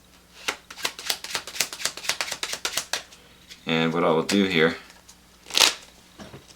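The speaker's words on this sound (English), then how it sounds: "And we'll shuffle the deck like so." A deck of playing cards being shuffled during a close-up card trick, a run of quick crisp riffling clicks and a short burst of flutter, with someone talking before and after.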